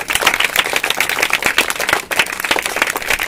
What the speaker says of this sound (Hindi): विश्वनाथ के लिए जोरदार ताली भाई साहब